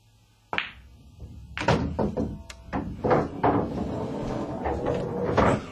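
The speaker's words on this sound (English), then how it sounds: "play to hit the rail and hit this 12 ball and get it away from the 5" A cue ball in an 8-ball pool game knocks off the rail and then clacks into the 12 ball, giving a few sharp, close wooden knocks over a quiet room.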